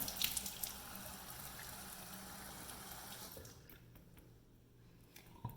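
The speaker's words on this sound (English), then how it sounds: "So I'm gonna put some water on my face. And this is warm water." Warm water splashed onto the face by hand, wet sloshing and dripping sounds up close for several seconds, then quieter trickles near the end.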